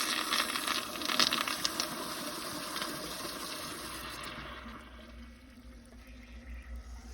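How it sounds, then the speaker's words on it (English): A 2004 American Standard Cadet pressure-assist toilet flushes while partially clogged, giving a loud forceful rush of water that fades after about five seconds into a quieter refill trickle, heard alone without talk. "So I want to see how it does in a partially clogged flush."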